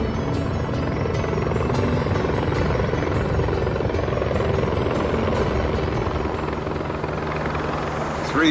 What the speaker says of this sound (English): Three helicopters overhead,